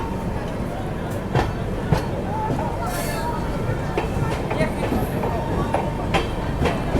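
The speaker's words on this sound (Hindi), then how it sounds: "राजधानी एक्सप्रेस अपनी धीरे धीरे एक्सेलरेट करते हुए यहाँ पे बरहड़वा जंक्शन से।" The Rajdhani Express pulls slowly out of Barharwa Junction, its wheels clicking over rail joints in an irregular rhythm beneath a steady rumble, heard from nearby with a voice talking over it.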